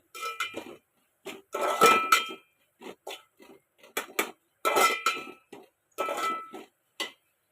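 Veg noodles are tossed with salt in a metal pan, giving a string of short, sharp scrapes and clinks in quick uneven bursts separated by brief pauses, close and fairly quiet.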